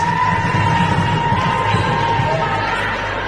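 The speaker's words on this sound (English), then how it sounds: "Can hear the crowd starting to really get behind the UK team here." Spectators at a women's curling match between Switzerland and Great Britain yell and cheer in a steady, dense roar that fills the hall, with a constant hum underneath.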